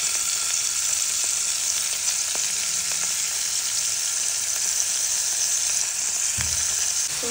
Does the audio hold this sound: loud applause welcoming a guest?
no